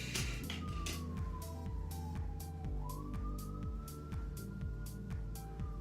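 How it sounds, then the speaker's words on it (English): A police siren wails with a slow rising and falling tone over a steady rumble of nearby traffic and engines. "I always do that every time I hear a siren."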